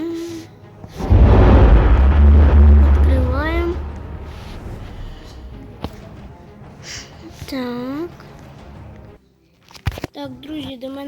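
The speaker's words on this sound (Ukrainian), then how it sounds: "Ні, ну це вже точно хтось стріляє." In the Roblox game Military Tycoon, a deep boom rolls out early, followed by a few sharp, scattered gunshots over ongoing talk and a rising, bending electronic tone.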